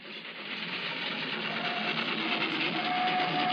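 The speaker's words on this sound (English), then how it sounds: "So here comes their favourite steam engine again." A steam engine from the film The Railway Children makes a steady, loud broadband rushing and hissing roar that builds slightly and holds throughout, with no speech.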